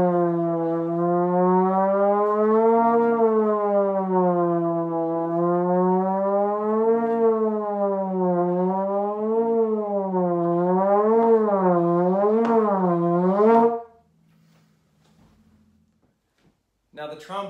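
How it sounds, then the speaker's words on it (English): A trombone plays long sustained slides, its smooth, rich tone gliding lower and higher in repeated waves and growing quicker toward the end, then cutting off into near silence. "I'll play some slides on the trombone"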